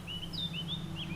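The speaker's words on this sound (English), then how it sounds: "The birds singing, the bees buzzing." Birdsong in The Witcher 3: Hearts of Stone, a few thin rising and falling whistled chirps repeating over a steady low ambient hum, fairly soft and alone.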